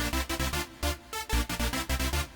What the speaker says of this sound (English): the last thing that we need to do in Sylenth1 to get the sound is add an arpeggio